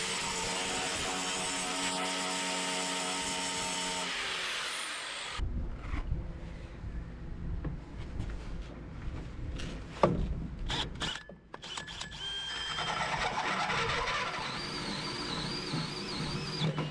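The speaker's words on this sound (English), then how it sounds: "We'll get the grinder out," Angle grinder dressing the edge of a hole cut into a stainless steel fuel tank, a steady bright whine for several seconds, then lighter scuffing and handling noises before the grinder spins up again near the end.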